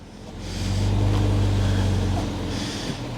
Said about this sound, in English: it's got quite a nice exhaust on there